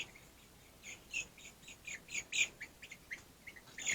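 Chicks about three and a half weeks old chirp in a brooder, giving a run of short, high, quiet peeps in irregular bursts over a faint background.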